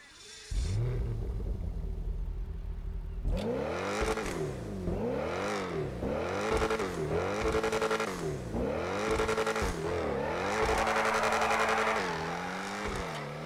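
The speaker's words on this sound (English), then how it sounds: "It sounds pretty good to me, with that growl at lower speeds and the revving." A Pegassi Ocelot XA-21 sports car engine in GTA 5 Online growls low, then revs up and down repeatedly in rising and falling sweeps, loud and continuous.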